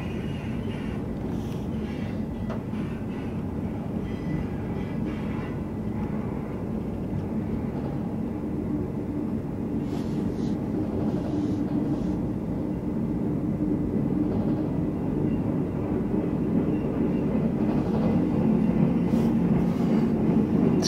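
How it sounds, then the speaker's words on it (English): A long freight train of empty garbage cars rumbles steadily past on the Elliott Bay waterfront, a continuous loud clattering roar that builds slightly toward the end. "We have a lot of empty garbage train cars."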